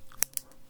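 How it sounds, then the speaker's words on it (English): Two quick, sharp clicks close by, a small mechanical pen clicking in a quiet room. "going to be producing some pen clicks."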